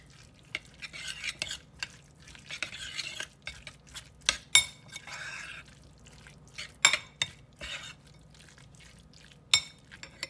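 A spoon stirs a tuna and cracker mixture in a bowl, making irregular scraping strokes and sharp clinks against the dish, close and fairly quiet.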